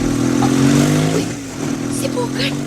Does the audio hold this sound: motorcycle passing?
yes